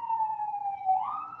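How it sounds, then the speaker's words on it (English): A wailing siren tone sweeps slowly downward then rises again, steady and fairly loud, like an emergency vehicle passing nearby. "why are all these sirens?"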